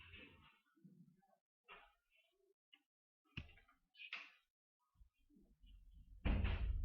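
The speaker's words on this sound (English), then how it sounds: "will you please close the door?" A classroom door swings shut with a loud, close thump at the end, after scattered small knocks, shuffles and brief voice fragments in a quiet room during a marketing lecture.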